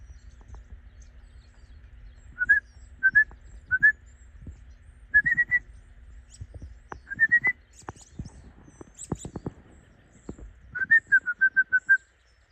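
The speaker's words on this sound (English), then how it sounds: "That's a robin right there, I know it is." A robin sings near a greenhouse in short, clear whistled phrases spread through the clip, ending in a quick run of repeated notes. The song stands out against quiet background rustle and light knocks.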